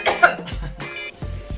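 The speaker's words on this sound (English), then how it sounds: "You coughed and you didn't cover your mouth." A man coughs openly indoors, a couple of short bursts with a low, throaty edge, close to the microphone and with no speech during it.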